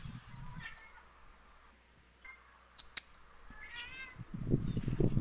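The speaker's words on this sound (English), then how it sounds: "She was meowing for a treat" A cat meows for a treat, several short, fairly faint calls spread across a few seconds, with soft clicks and rustles in a quiet room and no talk.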